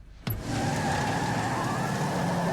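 A car drives past on the TV show Better Call Saul. A sharp onset is followed by a steady, full engine and road rumble with a faint high tone on top, with no talk.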